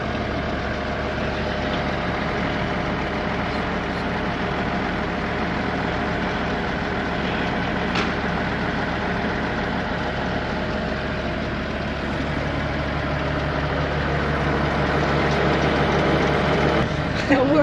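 A forage harvester's blower runs steadily during a corn silage harvest, a constant low mechanical hum and whir with engine drone, unbroken for the whole stretch.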